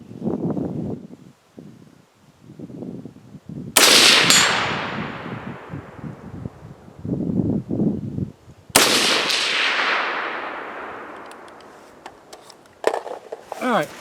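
Rifle fired during accuracy testing, two loud sharp shots each followed by a long decaying echo, with people talking between the shots.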